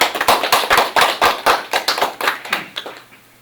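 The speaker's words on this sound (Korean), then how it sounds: "큰 박수로 환영합니다." An audience at a Korean expert policy forum claps to welcome the presenter, a burst of about a dozen sharp, irregular hand claps that thins out and fades toward the end, with no voices over it.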